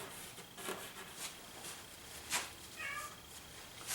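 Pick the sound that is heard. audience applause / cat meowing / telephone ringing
cat meowing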